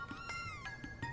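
A cat in the Chrono Trigger video game gives several short, high meows in quick succession, clear and fairly soft over faint background game sound.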